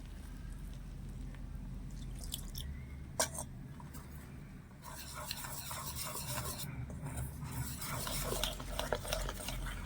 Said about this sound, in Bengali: এই এক বাটি জলটা আমি একবারে ঢেলে দেব না অল্প অল্প করে দিয়ে মেশাতে থাকবো প্রথমে আমি হাফ দিয়েছি হাফ দিয়ে একটু মোটা করে মেখে নেব